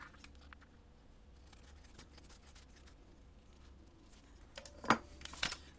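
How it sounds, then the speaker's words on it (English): Scissors snip along the fabric edge of a sewn travel accessories bag near its zipper: a quiet stretch of faint rustling, then two crisp, close cuts near the end. "And so now I can clip away the edge there."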